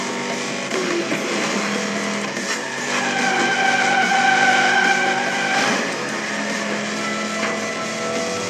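A car drifting through a race in the Split/Second video game, engine roaring steadily with a sustained tire skid and squeal rising midway, loud and close, no talking.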